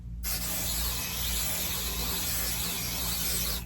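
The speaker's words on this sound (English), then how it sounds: "Don't be skimpy on your spray." Basting spray hisses from an aerosol can onto quilt backing in one continuous, close burst lasting several seconds, starting sharply and cutting off at the end, with no talking.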